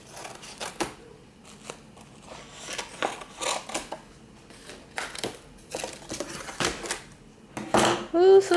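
A package of picture frames is cut open, with scattered sharp cutting and crinkling noises close by and a voice talking in between.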